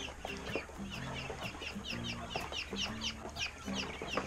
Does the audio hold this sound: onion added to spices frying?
no